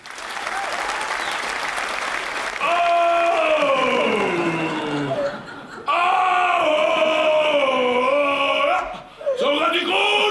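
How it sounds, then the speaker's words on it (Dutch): Loud applause and cheering from a crowd welcoming a comedian onstage, a continuous roar of clapping overlaid with whoops and voices, briefly dipping before surging again. "geef hem een groot applaus"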